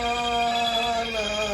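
A phone rings with a loud, steady electronic ringtone of sustained layered tones, filling the short moment without pause, during a road trip to Manali.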